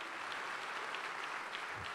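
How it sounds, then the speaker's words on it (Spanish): A congregation at a church testimony gathering claps steadily, a soft, even patter of applause heard from a distance for a couple of seconds. "quiero que le dé un fuerte aplauso a Dios"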